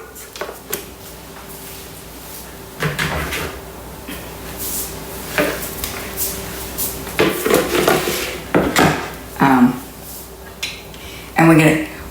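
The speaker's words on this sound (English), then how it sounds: "now we're going to put the Varoma dish in place" A Thermomix Varoma steaming dish is set in place on the machine in a home kitchen, giving a few scattered plastic knocks and clatters, the clearest bunched toward the end, over low room noise.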